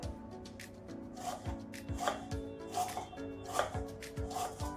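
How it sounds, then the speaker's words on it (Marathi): A knife chops onion finely on a cutting board for tomato chutney, a series of soft, fairly quiet taps spaced roughly every half second over a low background hum, with no talking. "कांदा आपल्याला एकदम असा बारीक कट करायचा आहे"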